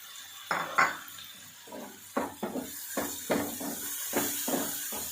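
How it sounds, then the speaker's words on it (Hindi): Green chillies go into a cooking pan while egg macaroni is made, giving a series of clanking metal clinks and scrapes of a utensil against the pan, spaced irregularly and close by, with no voices. "अब मैं सब्ज मिर्च डालने लगी हूँ"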